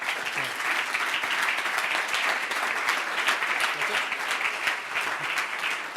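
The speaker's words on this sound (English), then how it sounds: "Round of applause." An audience at the GBC Sports Awards 2013 ceremony gives a steady round of applause, dense and even clapping filling the room for the whole stretch without a break.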